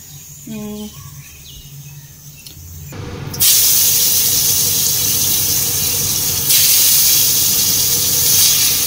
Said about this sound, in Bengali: তো দুটো বেগুন কেটে ভাজা করে নিই।